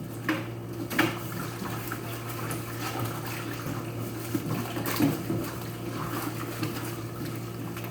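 Water sloshes and trickles steadily as an endoscope is cleaned while submerged in a basin, with soft intermittent splashes and handling noises close by.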